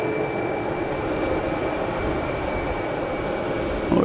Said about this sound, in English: Another JetBlue coming from Tampa.